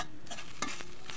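Potato paratha frying and being turned in a pan, with a steady soft sizzle and a few brief scraping stirs over about a second.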